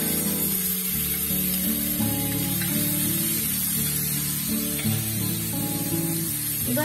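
Soaked chana dal frying in a pan for upma, giving a steady hissing sizzle up close and loud, with a low hum and faint clinks underneath.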